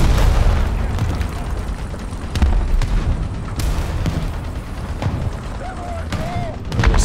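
Tank cannon shots and impacts in the War Thunder ground realistic battle, several loud booming blasts spread across the clip with rumbling engine noise between them and someone talking.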